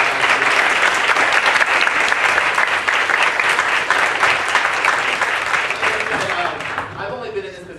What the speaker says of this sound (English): We give them another round of applause.